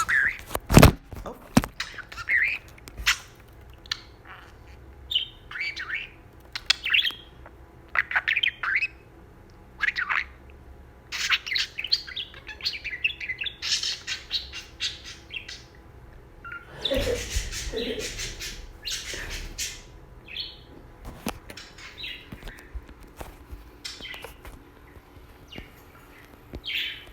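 A pet budgie makes scattered, sharp chirps and squawks close to the microphone over a quiet room, with a brief rustle or thump partway through.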